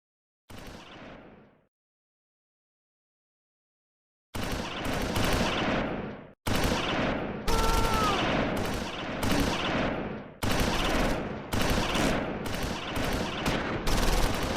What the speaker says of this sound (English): Second platoon's BAR squad switches to fire on infantry in the open